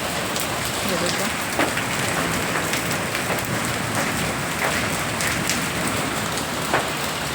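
Hailstones pelt a tin roof over a cow shed and drop into garden beds during a storm, a dense steady patter with sharper individual hits scattered throughout, fairly loud and close.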